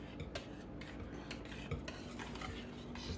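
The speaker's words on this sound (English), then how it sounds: "You're just going to use a whisk and whisk it all together and get it mixed up real good." A whisk beating pumpkin dump cake batter in a bowl, quiet rapid scraping and clinking strokes in a busy irregular rhythm, close and faint, with no talk.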